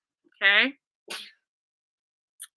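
A single sneeze from an adult man indoors, close and fairly loud, followed by a short breathy sound and a brief spoken word.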